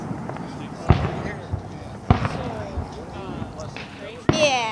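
Fourth of July fireworks burst in three separate sharp bangs spaced a second or more apart, each trailing into crackle under ongoing background noise and faint voices.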